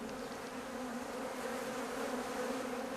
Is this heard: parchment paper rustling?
no